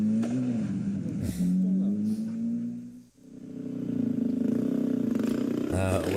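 A voice mimics a Ferrari engine revving, loud and close, with sustained rising drones broken by a brief dip midway before the revving builds again.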